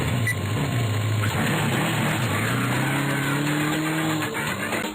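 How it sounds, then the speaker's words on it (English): Looping engine acceleration sound effect from a Hot Wheels flash racing game, a continuous loud synthetic motor drone with rising revving tones, steady and unbroken throughout. "the sound effect that plays when you accelerate in the game"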